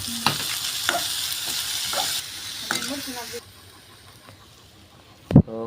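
Desi corn chevdo sizzles and hisses in a pan after water is added, a steady frying crackle with occasional stirring scrapes and clanks, loud at first and then quieter, with a brief voice near the end.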